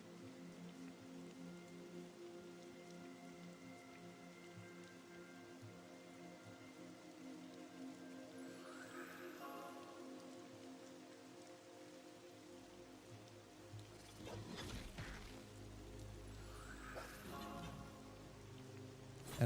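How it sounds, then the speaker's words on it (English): Steady rainfall in the video game Monsters & Memories, a soft continuous patter on surfaces beneath a low ambient drone, with a few brief louder swells near the end. "No, it's raining."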